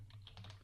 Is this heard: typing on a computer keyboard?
yes